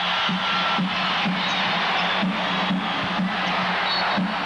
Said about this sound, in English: The crowd really getting into it now.